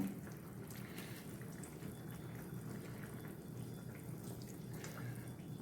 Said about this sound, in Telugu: ఈ పులుసు అనేది బాగా ఇదిగోండి మరుగుతూ ఉంది